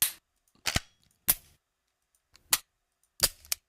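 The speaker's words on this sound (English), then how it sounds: "So we got a dry fire. Let's just say this is a python, Colt python." A Colt Python revolver dry fire sound effect: a series of sharp, isolated metallic clicks and snaps, about six in under four seconds, irregularly spaced and crisp against near silence.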